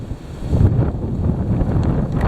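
Heavy wind buffeting the microphone in a loud, low rumbling roar that surges and eases in gusts.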